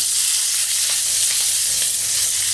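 Cumin seeds, coriander seeds, dry red chilli and green chilies sizzling in hot oil for karahi paneer, a loud, constant hiss close by with faint crackles, no voices.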